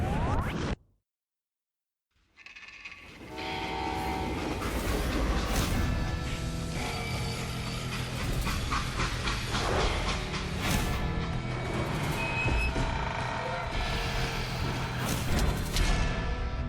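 A freight train from the Western game Call of Juarez Gunslinger rolls along with a dense, continuous rumble of clanking wheels and rattling metal, starting after a short silent gap and staying loud throughout.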